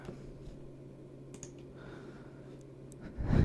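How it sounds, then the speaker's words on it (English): A computer mouse gives a handful of sparse, crisp clicks, recorded close on a sensitive microphone during an ASMR live stream, over quiet background hum with a louder rustle at the end. "okay, mouse clicking time."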